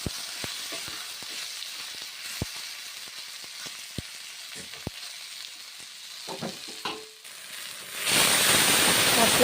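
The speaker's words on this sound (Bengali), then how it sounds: "আদা কাঁচা লঙ্কা মশলা দিলাম কড়াইয়ে। তারপর নেড়ে চেড়ে নিচ্ছি 1 মিনিট।" Ginger, green chili and ground spice paste sizzle and fry in oil in a wok, with steady crackling hiss and scattered clicks of stirring, swelling into a louder, fuller sizzle near the end.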